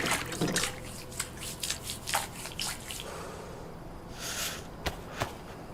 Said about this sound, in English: I can fill up my bottle and wash my hands